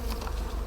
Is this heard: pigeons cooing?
no